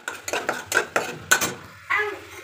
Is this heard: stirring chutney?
yes